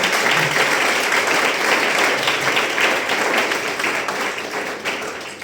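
Congregation applauding during a Sunday church service, a dense steady wash of clapping that holds loud for several seconds and tapers slightly toward the end.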